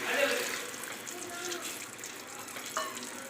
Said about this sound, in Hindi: थोड़ा सा पानी का छींटा दूंगी